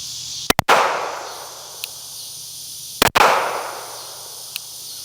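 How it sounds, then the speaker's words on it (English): Two loud, sharp pistol shots fired from a carry gun fitted with a Radian Afterburner compensator, spaced about two and a half seconds apart and ringing out into the open air. "Let's go ahead and put a couple rounds out of this thing"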